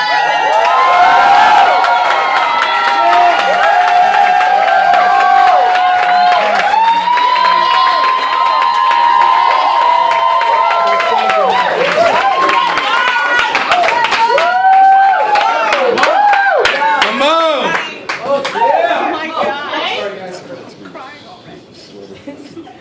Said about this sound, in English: Give a lot of love and clapping for Muggs!